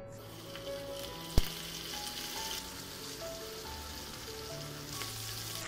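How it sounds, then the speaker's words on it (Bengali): Pieces of chicken frying in a pan, a continuous crackling sizzle that stays close and steady, with one sharp knock early on and a faint background tone. "পরবর্তী ব্যাচটাও আমি একইভাবে ভেজে নিচ্ছি"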